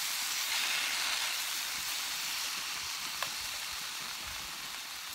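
Bacon fries on a Trangia camping stove outdoors in the woods, a steady close hissing sizzle that holds evenly throughout, with no talk over it.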